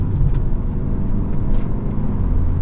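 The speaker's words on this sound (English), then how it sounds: "So setting off now in the Elantra N-Line." The 2025 Hyundai Elantra N-Line with its turbo engine and dual-clutch transmission hums at a steady, loud low pitch as it sets off, with road and cabin noise and no speech.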